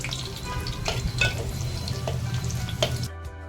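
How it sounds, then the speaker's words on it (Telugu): Onions and green chillies fry in oil inside a clay pot for country chicken, a steady close sizzle with scattered crackles and a few scraping stirs, easing off near the end. "మన ఉల్లిపాయ పచ్చిమిరపకాయ ఇక్కడ వేగిపోయింది."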